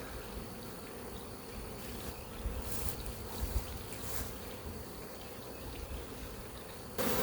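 A swarm of honeybees caught at head height in the hive gives a continuous, steady buzzing hum close by. A few brief soft knocks and rustles break in, with no talking.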